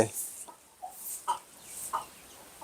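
Laying hens cluck in short, spaced calls, a few soft bursts repeating every half second or so.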